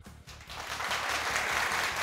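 A studio audience claps for cricketer Ahmed Shehzad on a Pakistani cricket talk show, a fairly soft, steady patter of applause under a regular thumping background beat.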